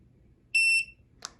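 A single short electronic beep from the control panel of an electric standing desk as a preset height is saved, clear and high-pitched against a quiet room, followed by a soft click.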